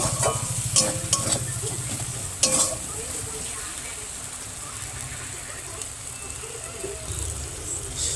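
Spice masala sautéing in a pan, a steady close sizzle and hiss with a few sharp spoon scrapes and clinks early on, quieter later while a voice speaks over it.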